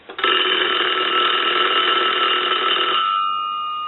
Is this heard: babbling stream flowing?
no